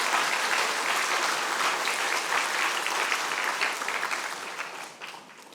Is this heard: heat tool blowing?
no